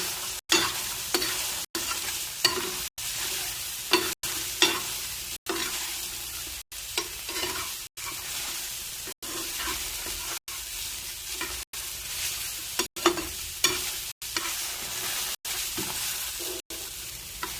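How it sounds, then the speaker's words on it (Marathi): Methi thecha ingredients, including onion and tomato, dry-roast in a pan without oil, giving a soft continuous crackle and hiss, broken by regular light scraping strokes of stirring about every second and a half. "हे सर्व मी बिगर तेलातच भाजते, तेल बिलकुल टाकलेलं नाही"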